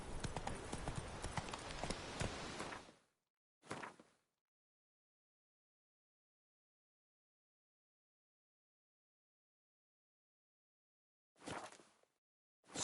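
Roach, the horse in The Witcher 3, galloping with rapid, loud hoofbeats that cut off abruptly, followed by a brief burst and long silence, then another short run of hooves near the end.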